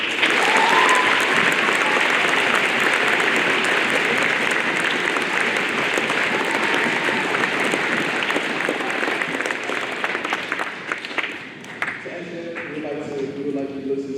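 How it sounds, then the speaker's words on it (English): A school audience at a junior high Black History Month assembly applauds, sustained dense clapping that thins out toward the end, with a few voices and faint tones near the close. "Round of applause."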